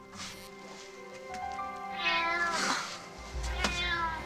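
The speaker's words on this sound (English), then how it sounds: "It's a cat." A cat meows in a long, drawn-out wail that rises and falls, fairly close and clear against a quiet room, with a low rumble joining near the end.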